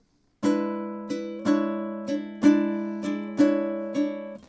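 Bright ukulele chords are strummed in a loose, swinging blues shuffle rhythm, about eight strums with accented beats, clear and close, no voices.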